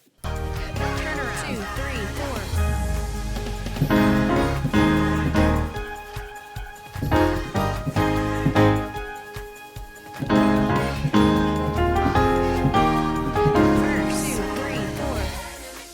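A full piano passage from the gospel song "Goodbye Yesterday", with rich chords and a moving melody, played loudly and continuously with dense low notes and occasional lighter pauses.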